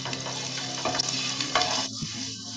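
Onions sizzle steadily in a hot pan with ginger, garlic and green chili paste, while a spoon stirs them with soft scraping strokes, close and continuous.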